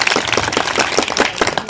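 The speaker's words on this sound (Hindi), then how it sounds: "तो जोरदार तालियों के साथ में कीजिए स्वागत सैयद अली नकवी जी का" An audience applauds to welcome a speaker at an event in Uttarakhand, a brief burst of steady, dense clapping, close and lively.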